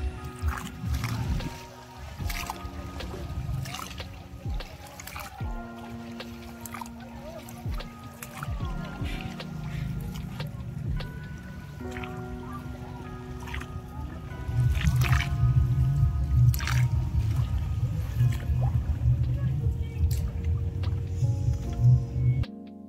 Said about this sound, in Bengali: গোল ব্যাম্বু বোটে করে পুরো ভিলেজটার ট্রিপ করানো হয় জলের থ্রু।